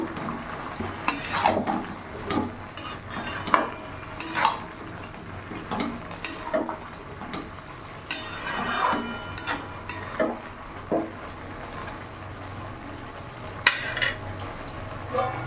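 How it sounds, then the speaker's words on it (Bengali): Cabbage curry stirred in a pot on the stove, a vegetarian dish, with scattered metallic clinks and scrapes of a spoon against the pot and wet, lid-like clatter, moderately near and irregular throughout. "ঢাকাটা খুলে একবার দেখবো ভালো করে নাড়াচাড়া করে নেবো"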